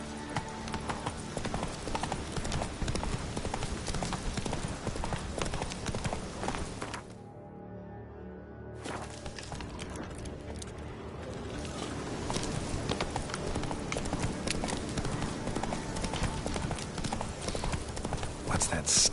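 Roach the horse gallops in The Witcher 3, a steady rapid clip-clop of hooves with game ambience and a voice speaking over it, dropping briefly quiet midway before the galloping resumes.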